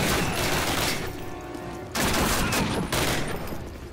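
Automatic fire from a BAR rifle in the Call of Duty video game: dense, loud bursts of rapid shots in two or three sustained volleys with a short pause between them, and no voices.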